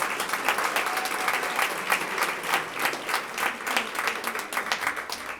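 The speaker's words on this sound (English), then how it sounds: "One more applause for the Marines." Benefit dinner audience marking the U.S. Marine Corps birthday applauds the Marines, sustained moderately distant clapping from a large room, steady and even throughout.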